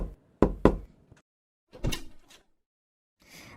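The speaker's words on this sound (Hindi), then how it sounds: "उसी वक्त किसी ने दरवाजा खटखटाया।" Someone knocks on a door in a Cinderella story: two sharp, close knocks, then a fainter rap a moment later, then a soft scuffle.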